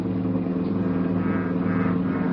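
A police cruiser car drives through steady rain at night in a radio drama, its engine a continuous mid-pitched rumble that stays close and even throughout, with no voices.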